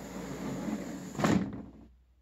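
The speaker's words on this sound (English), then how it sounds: "And as you open the control room door" A recording studio control room door being opened indoors, a soft muffled clunk and swish near the middle, faint and close, before the sound falls away into near silence.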